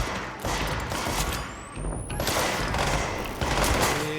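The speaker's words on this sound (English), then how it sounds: "That is a charged sniper rifle." Charged sniper rifle fire in the action game Control, loud bursts and heavy thuds in a dense firefight, with several impacts spread across the span.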